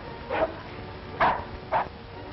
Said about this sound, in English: They were frisky and unruly as they barked their hellos and swapped stories,